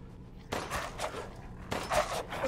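Gunfire in the video game Resident Evil Village, two short bursts of shots, close and moderately loud, against a quiet background.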